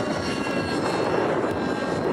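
A radio-controlled helicopter in forward flight with a left bank, its steady broadband rotor and engine drone holding at a constant, fairly loud level throughout.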